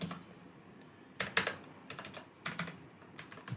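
Keys on a computer keyboard clatter in short, irregular bursts of quick taps after a quiet start, close by and fairly soft, with no talking.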